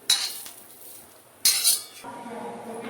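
A spoon scrapes roasted cashews and coconut out of a hot pan, with two sharp metallic scraping bursts separated by a quieter pause and soft clinks afterward.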